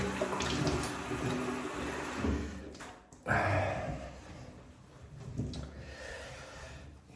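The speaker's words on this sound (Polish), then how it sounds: "Spłukam sobie trochę twarz i myjemy się i golimy się dalej." Water splashes as someone rinses their face at a sink mid-shave, with running tap water, cupped-hand splashing and a sharp snorting breath, loud and close, with no talking.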